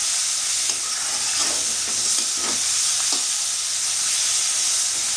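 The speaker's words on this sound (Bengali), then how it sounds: "মশলাটা আমার ভাজা ভাজা হয়ে এসছে" Spice paste fries in a pan for a Bengali-style crab curry, giving off a steady, even hiss of sizzling oil with faint stirring underneath.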